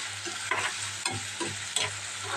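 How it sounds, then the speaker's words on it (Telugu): Prawns fry in a pan with a bright, close sizzle, while three or four quick stirring scrapes rise over the hiss. "ఫ్రై అవ్వాలి ఇదిగోండి ఇప్పుడైతే రొయ్యలు కూడా అయితే వేసేసుకున్నామండి"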